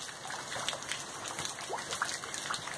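Steady rain pours down on a farm in Brazil's Northeast, a continuous dense hiss with scattered drips and trickles splashing close by, with no talk.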